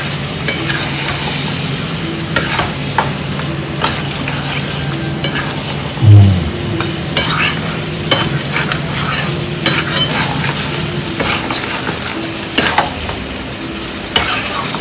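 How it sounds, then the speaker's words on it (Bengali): Mutton coated with whisked yogurt fries in a pan while being stirred, giving a continuous close sizzle with intermittent scraping and clinking of the spoon against the pan, and a single heavier knock midway. "এবারে একটু ভালো করে এটাকে মাখিয়ে নেব।"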